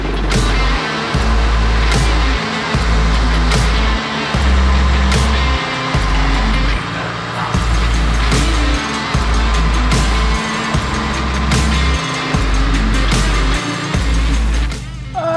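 An IMSA race car idles and creeps along toward the pit box, its engine rumbling low and loud from inside the cramped cockpit with repeated surging pulses and revs.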